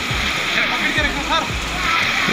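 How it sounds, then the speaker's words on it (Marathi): A flowing mountain stream on the Amarnath Yatra route where horses drink, steady burbling and splashing water heard close, with a few low thumps and faint voices in the background. "इथे तो वाहता ओढा आहे, त्याच्यातच घोड्यांना पाणी पाजलं जातं"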